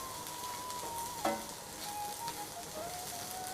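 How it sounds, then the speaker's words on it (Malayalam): About 200 grams of dried prawns fry in hot oil for pickle, a steady close sizzle with occasional stirring scrapes and a brief clink, no voices over it. "നല്ലോണം ഫ്രൈ ചെയ്തെടുക്കണം."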